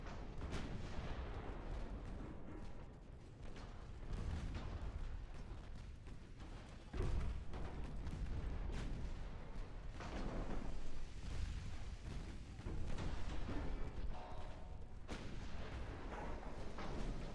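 Naval gunfire in Ultimate Admiral Dreadnoughts, a warship battle game: continuous loud booming salvos and rumbling blasts layered over a heavy roar, with sharper cracks at intervals throughout, and no voices.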